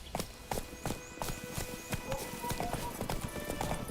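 Roach, Geralt's horse in The Witcher 3, galloping through woods with rapid, steady hoof clip-clops close by, a faint whinny hinted under the rhythm.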